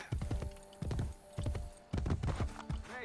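Horse hooves clip-clop in a steady rhythm, loud and close, in the video game Assassin's Creed Brotherhood, with a faint horse whinny near the end and a low hum underneath.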